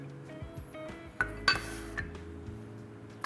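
Sugar, salt and vinegar go into a pot for sushi rice seasoning, with a few sharp clinks and taps of utensils and containers against the pot, one brighter ringing knock in the middle, close and fairly quiet, no talking.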